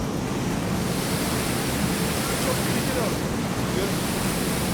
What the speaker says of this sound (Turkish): Çünkü çok rüzgar var burada ve inanılmaz bir hızla gidiyoruz şu anda gerçekten.